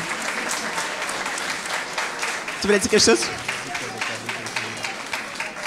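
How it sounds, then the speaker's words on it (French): Concert audience applause for a young contestant at a live challenge event, a steady crowd clapping that runs throughout. A voice speaks briefly over it midway. "Applaudissez-le parce qu'il a l'air d'être un petit peu encouragé"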